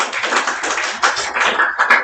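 Audience applause in a school hall at a career guidance programme, a dense burst of clapping close and loud throughout, without talk.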